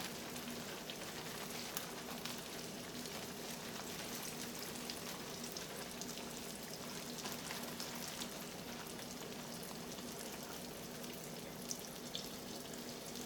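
Meat frying in a skillet for collard greens with sweet meat, a steady soft crackling sizzle that runs throughout at low level, with no one talking.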